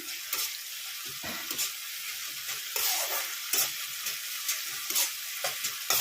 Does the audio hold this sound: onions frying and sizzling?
yes